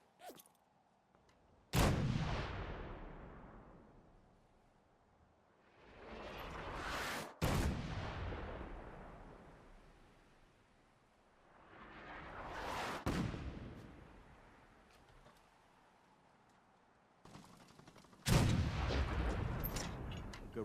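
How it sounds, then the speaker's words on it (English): Artillery test fire in Fallout 4, four heavy booming shots spaced several seconds apart, each with a sharp crack and a long rolling decay, faint and distant. "But first, we better do a test fire."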